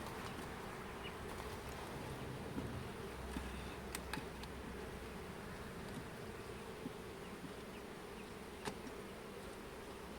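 Honeybees hum steadily around an open hive during a beekeeper's inspection, a dense, even buzz that stays faint and constant with a few brief sharper sounds, no voices.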